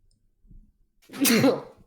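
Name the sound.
sneeze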